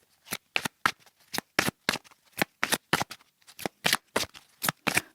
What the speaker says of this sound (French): On va aller prendre une carte avec le tarot avant.